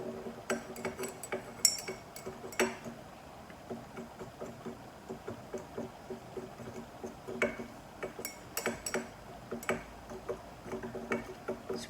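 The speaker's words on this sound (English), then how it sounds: "Stir very gently to dissolve, because I'm not really supposed to be stirring with" A thermometer stirring a sodium chloride salt solution in a glass, giving quiet, irregular clinking ticks of glass on glass, close and faint, with no talking.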